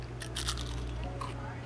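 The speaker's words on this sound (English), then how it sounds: "Can you hear the crunch?" Crispy breaded crab is bitten at a seafood shack, producing a few short, close crunches over a low hum of background noise.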